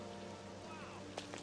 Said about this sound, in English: I didn't realize it was raining